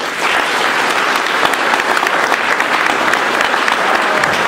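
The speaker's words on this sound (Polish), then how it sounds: "za coś takiego rzeczywiście należą się brawa" Loud, sustained applause fills a room at a travel evening about a Siberia expedition, with many hands clapping densely and evenly for several seconds and no voices heard.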